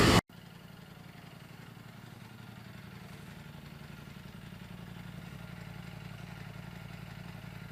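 A 2018 Ducati Panigale V4 Speciale motorcycle engine runs at a steady, low rumbling idle, close by and continuous, following a brief loud burst at the very start.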